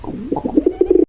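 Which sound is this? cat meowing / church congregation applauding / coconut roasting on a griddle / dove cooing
dove cooing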